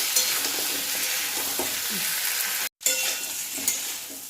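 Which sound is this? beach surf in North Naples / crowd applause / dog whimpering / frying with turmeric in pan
frying with turmeric in pan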